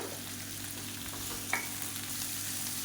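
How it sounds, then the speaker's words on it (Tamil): Chopped tomato and a little tamarind saute in a pan for a Tamil-style chutney, giving a steady, close sizzle and crackle throughout. "தக்காளி லேசாக வதங்க ஆரம்பிச்சிருச்சு"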